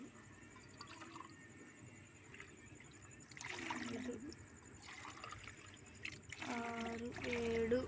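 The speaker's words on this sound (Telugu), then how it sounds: "7 గ్లాసులు వాటర్ పోసుకోవాలి." Water is poured into a pot for pulao, a faint, steady trickle and splash heard up close at low volume, with bits of speech rising over it toward the end.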